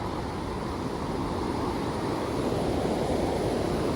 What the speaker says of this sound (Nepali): यो चाहिँ मिर्साली खोला हो